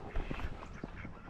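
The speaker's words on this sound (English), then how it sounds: "Ducks." Ducks quacking in a short burst of nasal calls over a busy outdoor background, fairly close and moderately loud.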